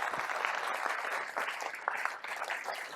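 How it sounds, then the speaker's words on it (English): Audience applause greets Sal Khan at a leadership forum, a dense, steady clapping from a large crowd lasting throughout with no talk over it. "So please, a huge, huge round of applause for Sal Khan."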